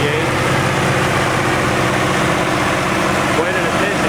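An International Harvester 1468 tractor engine runs at high RPM at a tractor show, a steady loud rumbling roar that holds throughout with no pauses.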